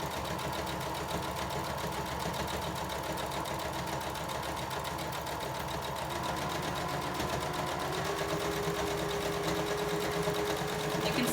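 A sewing machine quilting a fabric placemat along the seam line, running as a steady, continuous mechanical whir and needle chatter for the whole stretch without pause.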